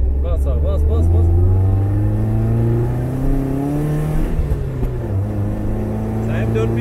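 A Lada 2104 with a swapped M44 engine revs loudly close by, the engine note rising and falling across several pulls, while people talk over it.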